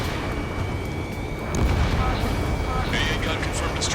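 A destroyed AA gun explodes in the Ace Combat 7 flight combat game, a broad low boom swelling midway over a constant rumbling din of battle and jet noise, followed by faint crackling bursts.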